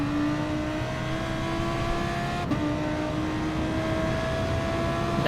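Audi GT race car engine in Gran Turismo Sport at an FIA GTC Manufacturers Series world final race, holding a steady loud high drone through a corner with a brief dip midway and no talk over it.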